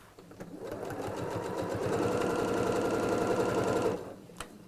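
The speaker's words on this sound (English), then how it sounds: "I'll go a little bit longer on the stitches because these are only decorative. And let's just sew all the way around here." Sewing machine stitching around a fabric bag with long decorative stitches, a close, steady, rapid mechanical chatter running continuously for about four seconds before stopping, with a faint click after.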